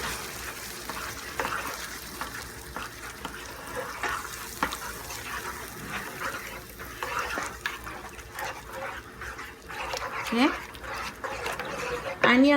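Gujarati khichro with tomato paste being stirred in a pot, with scraping and light sizzling clinks repeating through the stretch under a steady kitchen background, with a voice talking intermittently.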